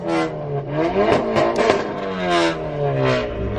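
A Volkswagen MK7 Golf R revs repeatedly in an enclosed parking garage, the engine note rising and falling in several loud, echoing pulls with a rough, harmonic drone as the turbo spools.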